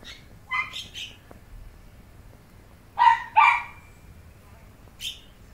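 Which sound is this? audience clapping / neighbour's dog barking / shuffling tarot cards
neighbour's dog barking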